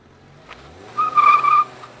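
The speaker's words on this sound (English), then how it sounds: "I want to go in reverse with this truck because you got to hear the pedestrian warning" A 2022 Ford Maverick Hybrid pickup reversing gives off its pedestrian warning sound, a steady electronic tonal hum that swells for about half a second over low background noise, with no talk.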